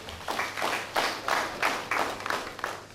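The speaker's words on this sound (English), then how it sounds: "Please clap for yourselves." Workshop audience clapping for themselves at a behavioural and cognitive modification training session, a steady patter of many hands in pulsing waves, moderately close with no talk over it.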